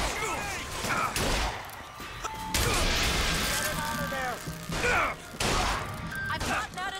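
Hand cannon gunfire in the video game Bioshock Infinite: several loud, heavy booming shots in a chaotic firefight amid crashes and impacts, with game voices and talk mixed in.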